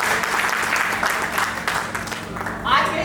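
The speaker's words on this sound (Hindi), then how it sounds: "उसके लिए जोरदार तालियां होनी चाहिए पहले तो।" Steady applause from the audience at a grand real estate project launch event, a broad wash of clapping running throughout with voices and background hum underneath.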